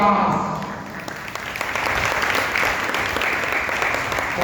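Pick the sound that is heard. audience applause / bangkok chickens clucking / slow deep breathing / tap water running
audience applause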